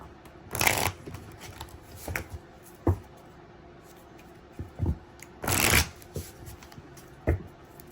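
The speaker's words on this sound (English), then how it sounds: "Let me give it a quick shuffle." Playing cards being shuffled in two quick riffling bursts, close and fairly loud, separated by quieter handling taps and soft clicks of the deck being squared, with no talking.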